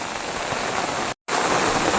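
Heavy rain pours through dense forest on a hilltop, a loud, even hiss of falling water that fills the air, broken by one brief cut to silence.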